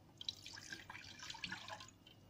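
Milk pours into a bowl in a kitchen, a soft, quiet, continuous liquid splashing and gurgling lasting a couple of seconds.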